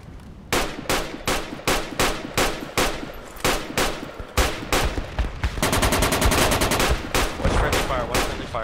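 Gunfire in the Project Reality video game: regular, loud single shots fired roughly every half second, then breaking into a sustained fast automatic burst near the end, close and dominant with no talk over it.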